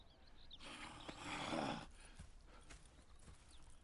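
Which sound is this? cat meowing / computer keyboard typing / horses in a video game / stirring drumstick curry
horses in a video game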